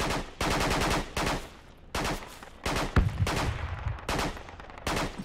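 Friendly gunfire in a military shooter video game: rapid bursts of automatic weapons fire ring out in repeated volleys, loud and close, with brief pauses between strings of shots.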